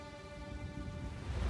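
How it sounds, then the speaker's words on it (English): Rain ambience from the video game Path of Exile 2, a soft, steady wash of falling rain with a faint low rumble and a sustained tone, quiet and continuous without speech. "I like the raining effects. It's quite nice. Very soothing."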